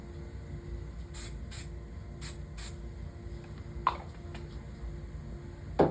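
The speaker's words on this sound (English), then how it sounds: "This one's not been used before, so the stream should be pretty good." A new can of spray adhesive releases several short hissing bursts at close range over a workshop hum, in uneven spurts with small clicks between them.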